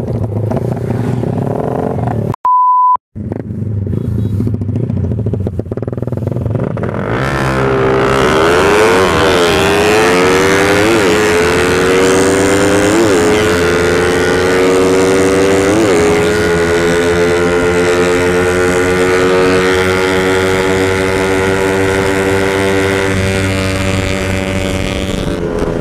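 An R150 motorcycle engine runs hard at speed, its loud, buzzing drone climbing in pitch over many seconds after a brief cutout near the start, then holding a high, strained whine.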